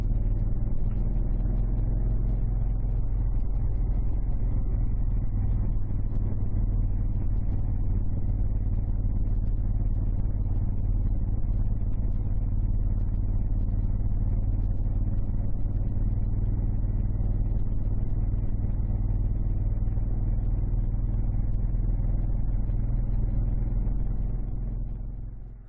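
A 1972 Moto Guzzi Eldorado motorcycle rumbles steadily as it is ridden at an easy pace on an autumn road. The deep, constant engine note is close and continuous, then fades at the very end.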